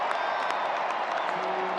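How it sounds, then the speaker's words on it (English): Large tennis crowd at the US Open cheering and applauding, a steady roar of clapping and shouts that fills the whole stretch. "Well, this crowd just losing its mind."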